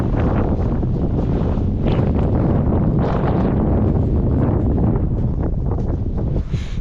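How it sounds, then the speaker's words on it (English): Strong wind buffeting the microphone outdoors on a van-life trip, a loud, steady roar with gusty surges throughout and no voices. "the wind really picked up"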